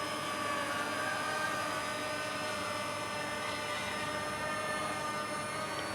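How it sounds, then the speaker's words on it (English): A drone hovers in light morning wind, giving off a steady high-pitched propeller whine with tonal buzzing, constant and moderately close throughout. "it's sitting there hovering pretty good"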